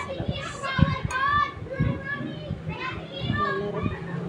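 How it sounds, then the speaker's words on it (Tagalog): Children play outdoors, shouting and chattering in overlapping voices with excited cries, a lively and fairly close crowd of kids heard steadily throughout. "Ingay ng mga bata sa labas."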